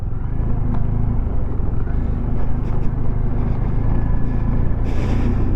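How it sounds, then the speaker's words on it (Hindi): Recovery van passing on a windy mountain road on the way to Spiti, a steady loud rumbling engine and road noise with heavy wind buffeting throughout. "तो जी ये रिकवरी वैन, कोई गाड़ी ख़राब होगी तो उसके लिए आई है"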